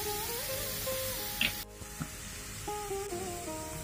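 Onion frying lightly in mustard oil for a beef bhorta gives a steady, close sizzle and hiss, briefly cut off midway before resuming, with a few soft clinks over a faint tonal hum.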